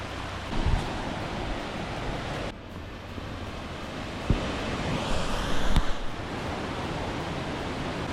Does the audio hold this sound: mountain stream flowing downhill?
yes